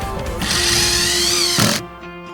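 A Milwaukee cordless angle drill whirs up loudly and holds a steady, high-pitched whine for about a second, then cuts off abruptly.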